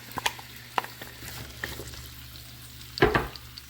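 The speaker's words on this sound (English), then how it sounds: "Okay, our oil's up to temperature, so we're going to add our potatoes." Cut potatoes and carrots sizzling in hot oil, with scattered stirring knocks and a louder splashy burst near the end, all fairly close with no voices.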